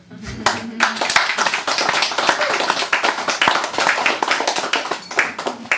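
Audience applause at a poetry reading, a lively stretch of many hands clapping with crisp individual claps standing out, sustained throughout at moderate volume.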